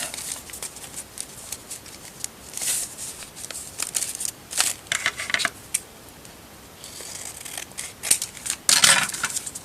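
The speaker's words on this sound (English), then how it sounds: "Cut the third one." Scissors cut paper for a crafted envelope belly-band, making close, quiet snips and crisp paper rustles that come in uneven bursts, with a louder flurry near the end.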